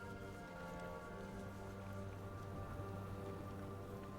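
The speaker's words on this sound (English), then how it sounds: "It's beginning to rain." Steady, even rain falling in the fantasy RPG Tainted Grail: The Fall of Avalon, a continuous soft patter layered over sustained low game-music tones, with no talk.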